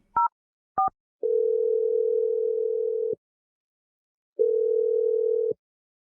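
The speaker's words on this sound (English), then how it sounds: "I'm going to dial it right now." A telephone call being placed: two short beeping keypad tones, then long, steady electronic ringing tones separated by a silent gap, clean and alone.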